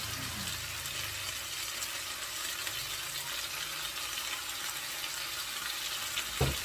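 Chicken liver sizzles in a hot pan with a continuous hissing fry, moderately loud and close, and a brief clatter near the end, with no voices.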